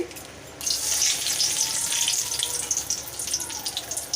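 Bay leaf dropped into hot oil in a wok while cooking a Bengali jackfruit curry, bursting into a bright, continuous close sizzle and crackle after a brief quiet start.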